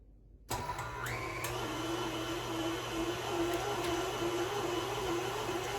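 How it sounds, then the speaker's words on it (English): An electric mixer with a meat-grinder attachment, running at about speed 6, grinds homemade dog food ingredients; it starts abruptly and then holds a steady, close mechanical whine and hum with faint scraping shifts as pieces are pushed in. "I just turned my my mixer on about a 6 and just start shoving things in"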